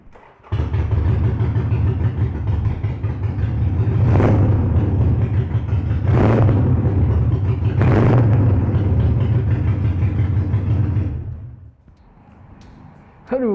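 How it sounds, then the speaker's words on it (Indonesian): Harley-Davidson motorcycle fitted with a Vance & Hines exhaust, loud deep rumbling idle close up with three sharp revs rising and falling, then cutting back to quiet. "knalpotnya diganti pakai punyanya Vance & Hines nih. Yuk, sekarang kita dengerin kali suara knalpotnya ya"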